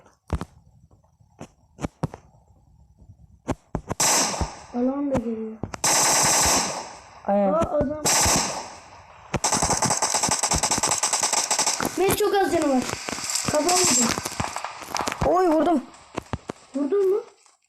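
Gunfire in the PUBG Mobile video game: loud bursts of automatic fire and single shots in quick clusters, with pauses and a few distant pops between them.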